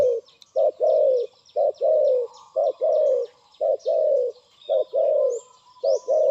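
Doves coo in a steady repeating pattern, short note then longer rolling coo, close and clear, with faint chirps from other birds behind.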